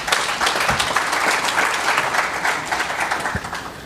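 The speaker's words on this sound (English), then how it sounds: "Let's give him a round of applause, please." Ladies and gentlemen at the official opening ceremony of an African philanthropy conference give a round of applause, loud sustained clapping that gradually thins toward the end.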